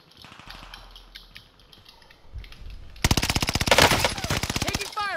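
Faint distant shots at first, then a loud close burst of rapid automatic fire in Call of Duty Warzone Resurgence, a quick rhythmic volley lasting about two seconds before tailing off.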